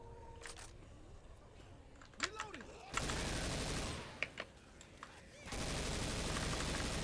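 Gunfire in the zombie shooter Left 4 Dead 2 comes in two short, fairly quiet bursts of rapid shots, with a few sharp single cracks between them.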